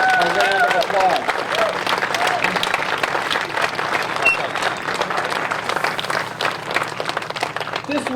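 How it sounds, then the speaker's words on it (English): A large crowd applauds loudly and continuously for World War II veterans at a 70th-anniversary commemoration, dense sustained clapping with voices and cheers mixed in throughout. "Please, let's give these heroes a round of applause."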